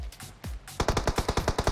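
Rapid automatic gunfire in the mobile battle royale game PUBG Mobile: a couple of isolated shots, then a fast, loud burst of about ten evenly spaced rounds fired close by.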